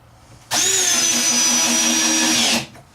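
A power drill drives a 1 5/8 inch screw into wood while a wardrobe cabinet is built for a DIY travel trailer: one steady, loud whirring burst of about two seconds, starting and stopping abruptly, with no talk.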